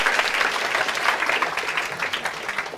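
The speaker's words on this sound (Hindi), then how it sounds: "जोरदार तालियां इन सब लोगों के लिए" Enthusiastic audience applause in a CA Intermediate law lecture, a dense steady clapping from a classroom crowd lasting throughout, fairly loud with slight swells in intensity.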